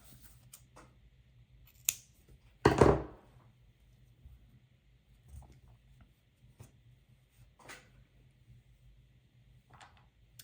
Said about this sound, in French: Je fais ensuite une maille en l'air et je vais venir couper mon fil.